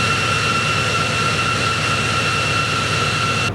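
Steady, loud roar of a 4,033-horsepower diesel locomotive engine revving, with a constant high whine on top, unbroken for a few seconds with no voices, inside a diesel shop.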